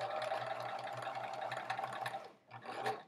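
A sewing machine stitches steadily across a quilt seam, a close, quiet run of rapid needle pulses that stops briefly near the end and then resumes in a short burst.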